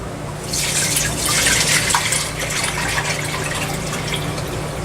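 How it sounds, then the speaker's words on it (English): Water pours steadily into a pot holding tea bags, a bright splashing rush that swells and then settles into a gentle trickle. "you're going to take the water and pour it into a pot"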